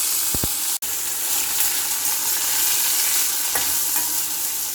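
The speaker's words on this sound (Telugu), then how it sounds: "పచ్చిమిర్చి వేగాక గోరుచిక్కుడికాయ ముక్కలు వేసేసుకోవాలి" Cluster bean pieces and green chilies fry in a hot tempering of curry leaves, making a loud steady sizzle with a couple of brief clinks near the start and a sharp knock, no voices.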